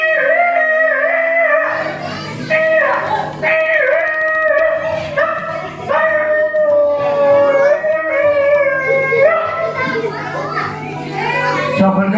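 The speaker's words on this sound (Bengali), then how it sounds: "পাড়ার কুকুরগুলো কিভাবে চিৎকার করতো" Several dogs howl together in long, wavering, overlapping cries, loud and sustained, with children's voices mixed in.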